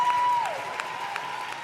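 An audience applauds a poet at the Roundhouse Three Sixty poetry slam final, a steady wash of clapping from a crowd in a hall, moderately loud and continuous.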